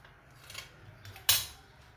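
A knife cuts through seven cup cake, a milk and coconut sweet, with a soft scrape and then one sharp, bright click of the blade against the surface beneath.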